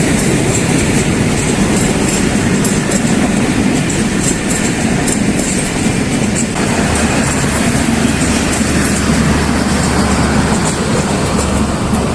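A train rolls across the Dina bridge near Jhelum, heard from above on the span as a loud, steady rumble with continuous clickety-clack of wheels on rails, a low rolling drone growing heavier toward the end.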